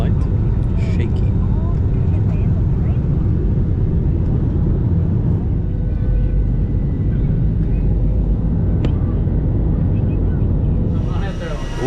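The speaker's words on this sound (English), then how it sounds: "We have touchdown in Chennai, India" Passenger airplane touching down in Chennai, India, a loud low cabin rumble of the landing roll with rattling and shaking throughout, ending as the noise begins to ease.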